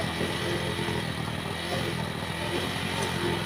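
A Pinoy 155 motorcycle engine runs at a steady, moderately loud putter with a rough, clattering rhythm, and faint voices in the background.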